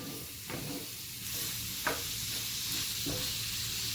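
Sausage fries in a pan with a constant close sizzle and hiss, broken by a few sharp scraping clicks as it is stirred, with no voices.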